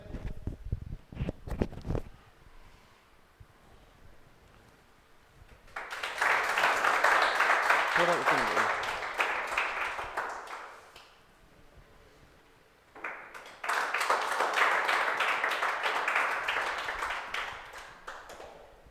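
Welcoming applause for airman Aman Vaishnav at an indoor gathering: two sustained bursts of dense clapping from a crowd, each several seconds long, separated by a quieter gap with a few scattered claps.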